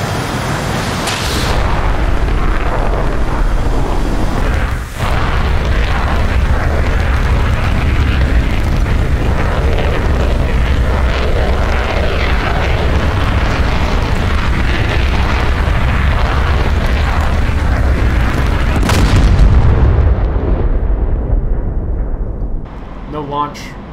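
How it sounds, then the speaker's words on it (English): Missile launch and detonation in the DCS World flight sim, flown in an Su-25T attacking SAM sites: a loud, sustained roaring rumble with a sharp thump early on and a heavier booming burst near the end before fading. "Firing, missile away"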